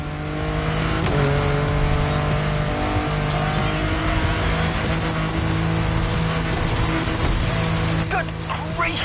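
A racing car engine in The Crew 3 video game drones at high revs with tire squeals and shifting pitch as the car speeds downhill, loud and continuous, with a voice talking over it.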